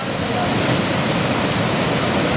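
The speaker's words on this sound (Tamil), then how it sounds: "இதோ பாருங்கள் மக்களே விளிற அருவியிலிருந்து வர நீர் நீராவி மாதிரி" Water plunging from a waterfall in Karnataka, sending up a mist over mossy rocks, makes a steady, loud, close rushing roar with no breaks.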